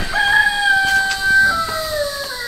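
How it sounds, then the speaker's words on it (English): A rooster crows on a farm, a long drawn-out cock-a-doodle-doo with a sustained, slightly wavering pitch lasting over two seconds, close and fairly loud over a faint outdoor background. "Thanks for opening the video up for me, Mr. Rooster and Mr. Walt the turkey."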